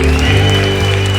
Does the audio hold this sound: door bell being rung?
no